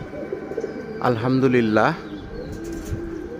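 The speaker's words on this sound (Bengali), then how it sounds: "বরাবরের মতো আজকেও কবুতর উড়াচ্ছি" Pigeons flown from a rooftop loft give a short burst of cooing and bird calls, fairly close and loud for about a second, with faint wing sounds possible and someone speaking briefly.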